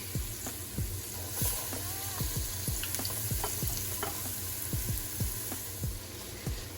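Celery and other vegetables sizzle in a hot pot for a seafood, sausage and chicken gumbo, with a constant frying hiss broken by repeated rhythmic scraping strokes of a spoon stirring nearby.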